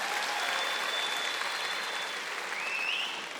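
Steady audience applause fills the hall, dense and even throughout before tapering slightly at the end, with a brief whistle-like tone rising near the close.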